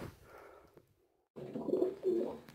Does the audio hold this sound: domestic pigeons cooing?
yes